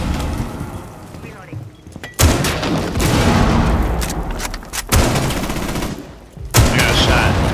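Gunfire in the Rainbow Six Siege video game, with loud bursts of shots breaking out repeatedly across the clip over constant game noise, each burst followed by a dense, noisy stretch of combat sound.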